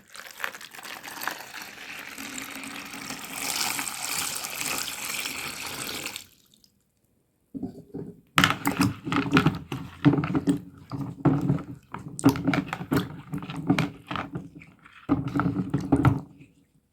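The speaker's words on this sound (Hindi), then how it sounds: "अब इसको 2 बार मैं पानी से अच्छे से साफ़ कर लेती हूँ, धो लेती हूँ" Amla (Indian gooseberries) being washed in water, the sloshing and splashing going on steadily for about six seconds, then stopping briefly and returning in louder, choppy bursts as the fruit is rinsed a second time.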